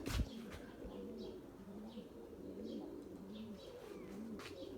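Purebred Erzurum white pigeons cooing in repeated low rolling phrases, quiet and steady, with a brief flutter or knock at the start and light chirps above.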